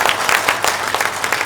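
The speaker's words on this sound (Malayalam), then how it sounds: "ഇപ്പോൾ ഇഷ്ടപ്പെട്ടാൽ കൈയടിച്ചേക്കണേ." An audience at a press meet breaks into dense, steady applause, many hands clapping loudly and close together in a brief continuous burst.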